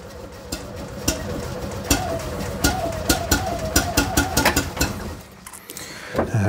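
A small Invacar engine sputters and runs unevenly after an electric Dynastart, with irregular popping firing beats close by and a faint voice in the background.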